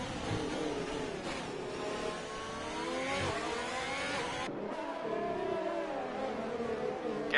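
Formula 1 race car in a racing video game accelerating hard out of a corner on the Baku street circuit, engine note rising through the gears, a steady loud whine with a brief upshift dip midway.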